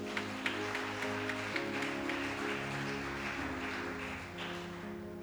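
A church congregation claps steadily, with sustained applause and acclamations under music with held organ or keyboard tones.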